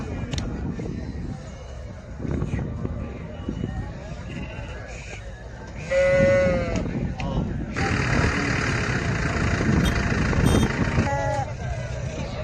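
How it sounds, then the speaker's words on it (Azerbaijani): Lambs and sheep at the Maştağa livestock market bleat several times, close and loud, amid a busy background of talking voices and passing vehicle engines. "Sarı quzuları."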